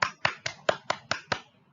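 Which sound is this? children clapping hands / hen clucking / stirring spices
children clapping hands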